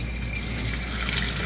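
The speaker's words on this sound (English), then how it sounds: "we're gonna turn the water on." A tap turned on for hand washing gives a steady, close, full rush of running water that holds evenly throughout the short moment, with no voices.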